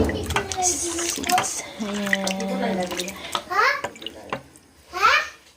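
Vegetables such as string beans being washed in a basin of water, with close splashing and sloshing while a voice and other talk run over the top.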